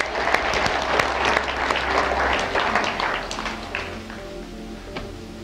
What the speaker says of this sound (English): everyone cheer for our volunteer